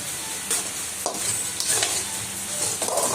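Cheesy creamy pasta being stirred in a pan, a steady scraping and squelching with soft sizzle underneath and a few sharper utensil knocks, close and moderately loud with no talking.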